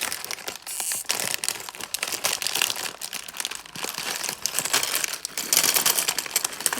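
Plastic bags from a Lego set torn open by hand, loud continuous crinkling and crackling with rustling bursts and small rattles of loose pieces, close up throughout.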